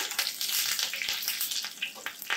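Crushed garlic, dried red chillies and curry leaves fry in hot oil for a tempering, making a bright crackling sizzle with scattered pops that rises and falls but never stops.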